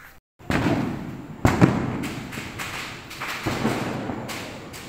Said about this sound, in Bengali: যেখানে অনেক বাজি ফাটছে, চারিদিকে লাইটিং আছে